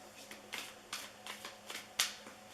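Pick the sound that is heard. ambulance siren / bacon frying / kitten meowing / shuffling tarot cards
shuffling tarot cards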